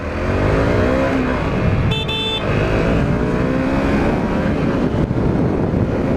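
A taxi car drives past on a busy road, its engine and tyre roar loud and continuous up close, sweeping through with a rising-then-falling hum.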